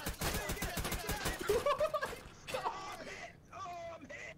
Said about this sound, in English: Oh my god, we're being shot at!